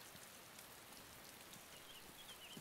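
Rain falls in the video game DayZ, a faint, even hiss of dense drops with occasional soft patters, steady throughout and unaccompanied by speech.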